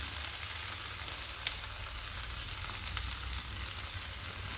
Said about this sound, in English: So taking each of your vegetables, they're all prepared, you can then put them into your hot pan.